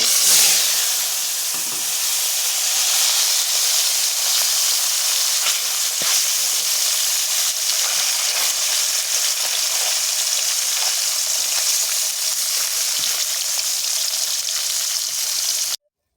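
The last few pieces of soft dogra fish fry in hot oil in a wok with a constant, close, crackling sizzle that stays even and loud throughout.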